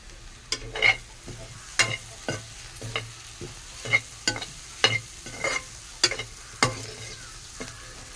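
Egg and carrot stir-fry in a pan with a soft background sizzle, while a spatula scrapes and taps against the pan in a regular rhythm of a dozen or so sharp strokes.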